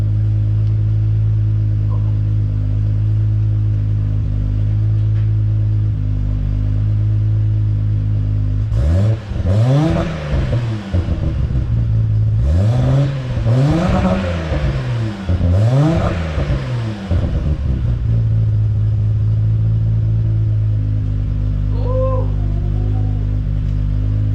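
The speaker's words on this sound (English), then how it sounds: "Let's give it a couple revs." A Nissan R33 GTR with a Mines front pipe idles loudly, then revs three times in quick succession, each rise and fall swelling over the steady rumble before settling back to idle.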